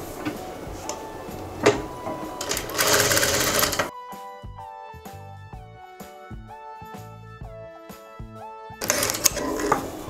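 A sewing machine stitches fabric in a steady whirring run for several seconds at moderate loudness, with handling and rustling of cloth before and after.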